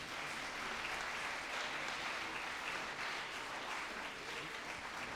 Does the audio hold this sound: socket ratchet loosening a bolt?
no